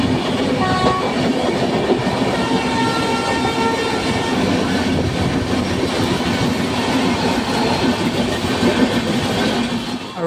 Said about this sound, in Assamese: মই উঠা ট্ৰেইনখন আৰু এইখন ট্ৰেইন একেলগে এটা ৰাস্তালৈ যাই আছে।